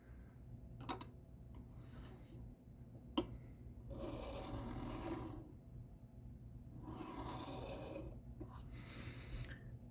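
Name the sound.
knife alternating strokes on KME sharpening stone, deburring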